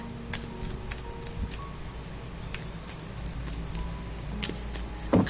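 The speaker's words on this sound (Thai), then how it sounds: "ขอเวลาสับไพ่สักครู่นะ" Tarot cards are shuffled by hand in a quiet room, giving faint, crisp flicks and rustles in uneven bursts.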